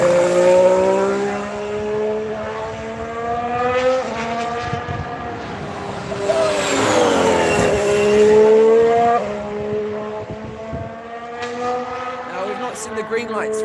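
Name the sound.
Haas Formula 1 race car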